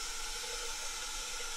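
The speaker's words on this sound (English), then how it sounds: "Get some more water here." Water running from a tap into a canner for canning green beans, a soft, steady hissing pour that stays quiet and even for a brief moment.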